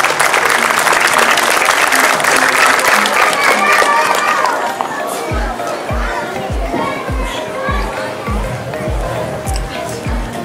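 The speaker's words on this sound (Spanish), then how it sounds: "Un fuerte aplauso." Loud crowd applause fills a sports flag-bearing ceremony for Cotopaxi athletes heading to the 2017 national games, dense clapping with cheering, then fading as steady low thuds and chatter continue underneath.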